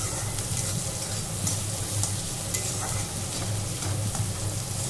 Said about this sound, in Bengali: খুন্তি দিয়ে একটুখানি ভালো করে নাড়িয়ে চাড়িয়ে তারপরে আমি ডালটা ঢেলে দেবো কড়াইয়ের মধ্যে